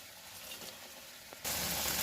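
Tangra fish added to a simmering poppy-seed gravy with green chillies in a pan, a quiet bubbling hiss that suddenly jumps into a loud, sustained sizzle as the fish goes in.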